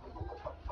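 Chickens in a backyard coop give a few short, close clucks in quick succession within a brief moment.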